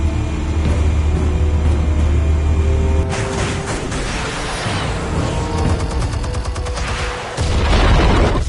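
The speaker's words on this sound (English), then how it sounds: "Explosives armed. Fire when ready." Explosives detonating in a thunderous barrage: heavy low booms and rumbling that swell into dense, crackling bursts, loud and close throughout.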